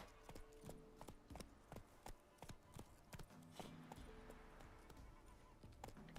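Hooves of Roach, Geralt's horse in The Witcher 3: Wild Hunt, clopping at a steady trot in a regular rhythm, fairly faint, with no voices over it.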